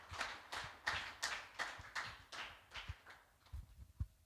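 A church congregation claps in a steady rhythm of sharp, even hand claps that slows and thins toward the end, with a faint voice in the background.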